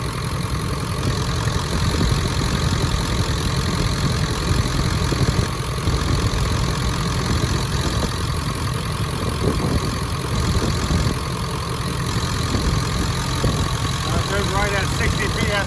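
A 1996 Ford F-250 diesel engine idles with a steady, loud rumble and clatter that holds even throughout, close up, with a voice occasionally talking over it.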